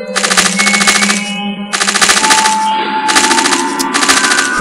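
Rapid bursts of automatic gunfire in the Cyberia 2 video game, three long loud rattling volleys separated by brief pauses, with an echoing electronic tone running underneath.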